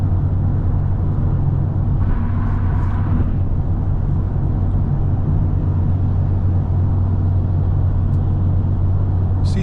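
Steady low road rumble and wind noise fill the cabin of a 2021 BMW M340i on the move, a loud constant drone with a faint brief rustle partway through and no talking.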